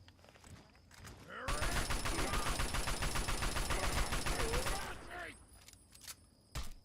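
Sustained assault rifle fire in the video game Fallout 3, a rapid automatic burst of about three and a half seconds, loud and close, with someone talking briefly before and after it.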